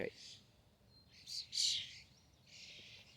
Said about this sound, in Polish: Fajnie ptaszki ćwierkają.